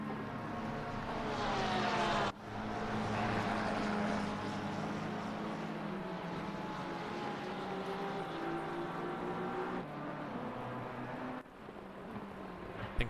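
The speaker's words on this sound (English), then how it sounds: "You can hear the roar of the, I think it's a Mercedes engine in the Aston Martin." A GT3 Aston Martin race car with a Mercedes engine roars steadily, a loud sustained droning engine note that shifts pitch as it passes, with no voices over it.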